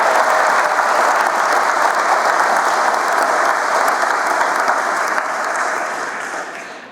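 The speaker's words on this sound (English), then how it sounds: "Let's take one more minute and recognize them all with a round of applause." A school audience gives staff members a sustained round of applause at a fifth grade promotion ceremony, steady and full from start to finish before fading slightly at the end.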